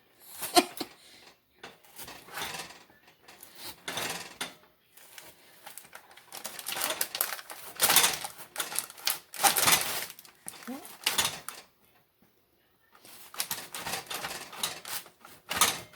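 Butter knife cutting into fudgy chocolate caramel Rice Krispie treats, irregular crisp crunching and crackling bursts up close, separated by short pauses, with a person talking in between.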